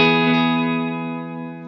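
A single sustained electric guitar chord from Guitar Rig 6 with a delay of about 300 milliseconds, ringing clearly and slowly decaying with a smooth ambient tail.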